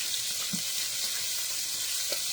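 Carrots, celery and onions sauté in a pan for a Sunday dinner, giving a steady, fairly close sizzle with a few soft stirring knocks and no talking.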